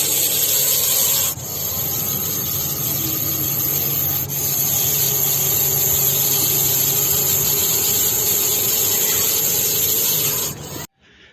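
A Russell's viper hisses in a steady, continuous, harsh breathy rush close by, with a couple of brief dips, then cuts off abruptly near the end.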